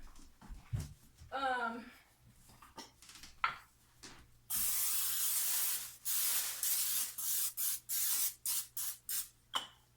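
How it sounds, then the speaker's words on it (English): A spray can hisses out cooking oil into a soap mold: one long blast followed by a series of short rhythmic spurts, close by, after a few quiet sounds. "normally I spray these with a little bit of cooking oil"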